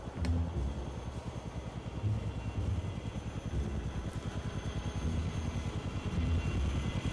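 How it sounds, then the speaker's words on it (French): Helicopter in the war video game Conflict: Desert Storm, a steady thudding rotor chop with engine whine that holds at a fairly even level throughout, with no voices over it. "Ah, l'hélicoptère."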